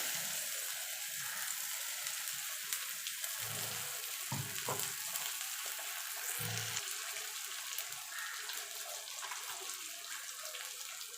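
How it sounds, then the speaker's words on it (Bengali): Yardlong bean paste frying with already fried onions in a pan: a steady, moderately loud sizzling hiss throughout, with a few soft stirring knocks underneath. "পেঁয়াজটা ভাজা হয়ে গেছে দিয়ে দেবো বরবটি যেটা আমি মিক্সিতে পেস্ট করে রেখেছিলাম"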